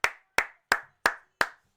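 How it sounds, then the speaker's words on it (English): One person clapping hands five times at an even, unhurried pace, each clap sharp, close and distinct with silence between, during a wrestling event live-stream watch-along. "I even started applauding and I didn't even know I was doing it."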